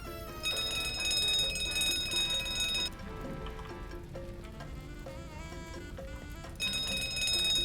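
A bell rings in the Tropico 4 video game, a bright metallic tone laid over steady game music, fading out briefly in the middle and returning at the end.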